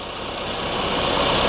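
A car engine idles steadily during a battery and charging-system check with a handheld analyzer, a close, even mechanical hum with a faint rhythmic knock and no talking over it.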